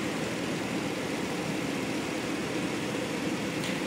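An LS3 V8 engine fitted in a Jeep JK idles with a steady, dense rumble that holds even and loud throughout, with no talk over it.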